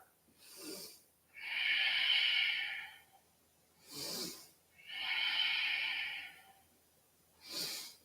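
Slow, deep yoga breathing, close and quiet with no talk: two long drawn inhales, each about 1.5 seconds, alternating with shorter soft exhales in a steady rhythm.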